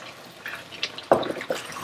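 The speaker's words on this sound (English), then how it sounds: "It is now bubbling quite aggressively, and it may start to stick a little bit." Risotto rice bubbling hard in a pan on the stove, a few soft pops and wet sputters scattered over a quiet background, with one sharper splutter near the middle.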